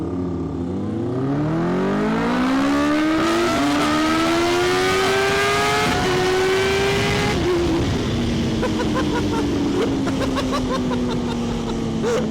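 A Kawasaki ZH2 supercharged motorcycle launches hard and accelerates, its engine note rising steeply through the gears, loud and close throughout with no talk over it.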